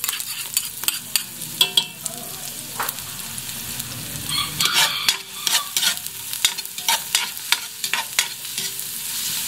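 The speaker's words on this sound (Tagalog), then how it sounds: "Bigyan natin ng 1 minuto ang pagigisa sa bawang at sibuyas." Garlic and onion sautéing in a pan give a steady close sizzle, broken by repeated scrapes and clinks of a spoon stirring throughout.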